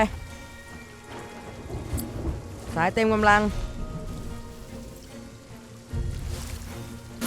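A stormy sea in the pirate game Sea of Thieves brings constant heavy rain and loud rolling thunder, while voices talk over it.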